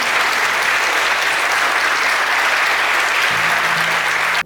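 A church congregation breaks into loud, sustained applause, a dense even wash of clapping filling the room for several seconds before cutting off abruptly.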